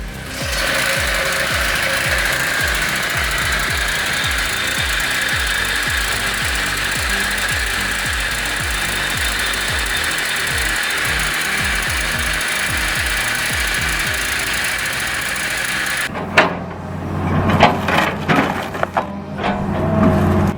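A gasoline-powered firewood processor cuts wood with a loud, continuous mechanical roar and rapid rhythmic chatter, then breaks into a few sharp knocks and clunks near the end.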